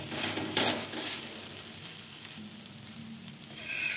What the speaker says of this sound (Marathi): एकदम बारीक गॅसवरच आपल्याला हे उत्तप्पा भाजायचे